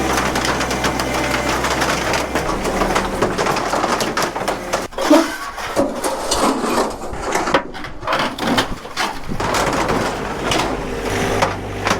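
A tractor engine runs loud and steady at close range while clearing land on an off-grid homestead, with woody cracks and knocks mixed into the rumble.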